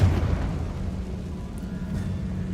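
Confringo fire spell explosion in the video game Hogwarts Legacy, a deep rumbling blast that opens with a heavy low thump and then holds as a dull, sustained roar across the short moment.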